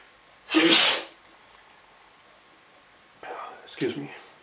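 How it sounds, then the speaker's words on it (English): A single loud, close sneeze bursts out over a quiet room, followed a few seconds later by softer breathy sounds and a short murmured voice. "I can feel sneeze coming."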